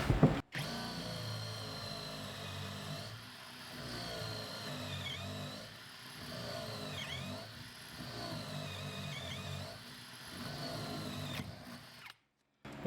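A power drill whines in repeated bursts while boring through OSB board, its motor pitch rising and dipping as it bores, then a brief cut-off near the end.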